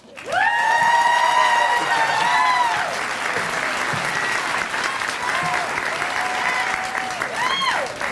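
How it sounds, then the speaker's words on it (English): Loud sustained applause from a big crowd at a winter graduation ceremony, with whoops and cheers rising over the clapping near the start and again toward the end. "Let's give her another round of applause"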